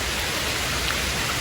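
Rain falls steadily beside a small trout stream during early summer fly fishing, a dense, even wash of noise that is close and continuous, with no talk.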